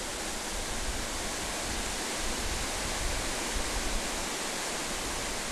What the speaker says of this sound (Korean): 시원스럽게 쏟아져 내리는 폭포의 물줄기가 삼복 무더위를 씻겨낸다.